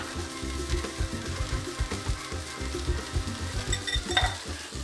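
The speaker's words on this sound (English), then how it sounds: "a little spatula, and I'm gonna start to cook the eggs by just moving it" Whipped eggs cook in a sprayed pan while a small spatula pushes them around, producing rhythmic scraping and soft sizzling, with a sharper metallic clink near the end.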